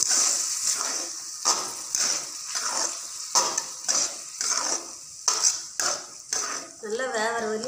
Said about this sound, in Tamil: நல்லா வேவர வரையும் கடைய போட்டே இருங்க.